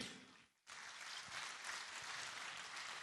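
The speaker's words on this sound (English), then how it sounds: "a round of applause one more time for His Majesty the King" An audience applauds His Majesty the King at an art awards ceremony, a dense, even wash of clapping that starts after a brief pause and continues steadily.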